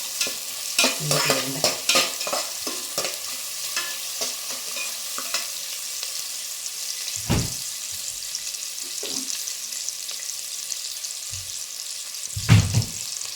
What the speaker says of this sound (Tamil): வெங்காயம் நல்லா வதக்கிட்டு தக்காளியை அரைச்சி ஊற்றினது ஊற்றுறேன்.